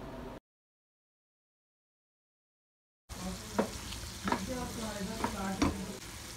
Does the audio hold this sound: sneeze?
no